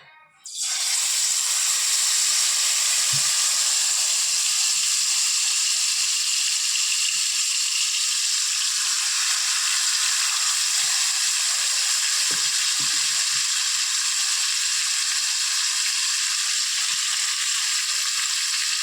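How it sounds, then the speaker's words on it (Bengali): Marinated tandoori chicken legs frying in a pan, a loud steady sizzle and hiss that starts abruptly and continues evenly, with faint occasional clinks beneath it and no talking. "এবার আমি ভাজবো।"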